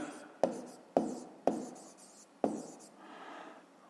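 Handwriting with a pen on paper while solving a math exercise: four sharp tapping strokes at roughly half-second intervals followed by a softer scratching trail, close and quiet.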